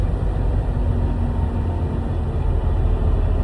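Diesel engine of a 10-speed semi tractor-trailer slowing down, a steady low rumble with loud continuous drone that holds even throughout, no voices.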